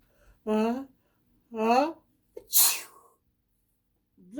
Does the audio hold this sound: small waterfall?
no